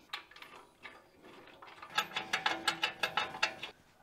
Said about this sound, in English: we're gonna torque the bolts to spec